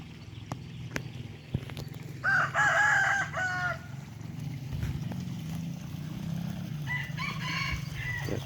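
A rooster crows loudly once near the middle and gives a shorter, fainter call toward the end, over a steady rural background on a village farm in Isan, northeast Thailand, where ducks and chickens are kept.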